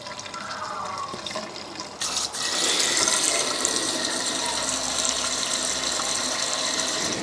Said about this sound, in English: I'm going to brim the screen wash